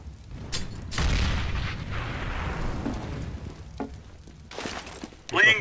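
A thrown grenade explodes in a video game with a sudden loud burst and a rumbling decay, followed by scattered smaller impacts.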